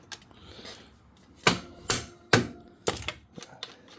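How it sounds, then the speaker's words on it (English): Several sharp taps of a dead blow or rubber mallet driving the front axle into a 2017 BMW F800GS motorcycle, about five distinct close knocks in an uneven rhythm with quiet gaps between. "Nice little dead blow, or a rubber mallet would work just fine. You just kind of give it a good tap."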